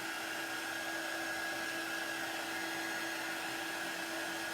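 A hair dryer blows steadily on freshly inked sneakers, a constant close whirring hum with no pauses and no talk.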